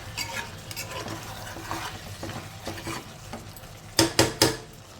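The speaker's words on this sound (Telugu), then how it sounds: "ఇదంతా కూడా ఒకసారి కలిపేసేసుకుందాము" A spoon stirring chicken gravy in a pan, soft scraping strokes over a faint sizzle, ending with three quick louder knocks against the pan.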